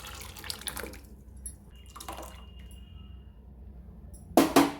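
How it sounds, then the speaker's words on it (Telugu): The cooking water from boiled lentils is poured into a pot of mashed dal in a few uneven splashes. Quieter trickles come in between, and a louder pour lands near the end, with no speech. "పప్పు ఉడికించిన వాటర్ వేసేసుకోవాలి"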